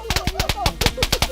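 An electric firecracker gadget for Diwali fires a rapid string of sharp, crackling pops in quick irregular bursts, loud and close, with no talk over it.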